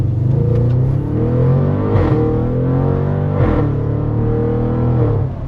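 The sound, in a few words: Audi RS7 engine burp when shifting gear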